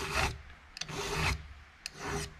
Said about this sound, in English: I always try and file the raker on the far side of the chain away from me